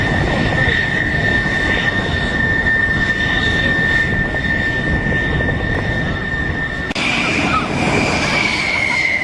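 An aircraft flies at the Oceana air show. Its engines make a loud, continuous roar with a high whine that shifts pitch partway through as it passes, with no talk.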